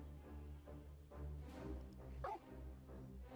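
Dogs barking and yelping in the Talking Simulator video game, short cries rising above a steady droning background hum.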